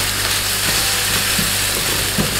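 Onions browning in olive oil for Hungarian goulash give a dense, loud, even sizzle that holds steady throughout, close up with no voices.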